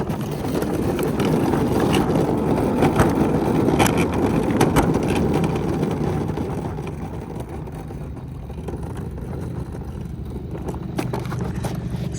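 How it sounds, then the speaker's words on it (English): A homemade electric go-kart with only one working brake wheel races downhill at full speed, its loud steady rumble and wind noise filling the scene before easing slightly as the brakes come on. "I'm going to go down this hill at full speed and then push on the brakes"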